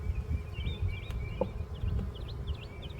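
Honeybees buzzing in a spring hive, a low dense hum close by with a few brighter passing buzzes and birdsong faintly behind, no talking.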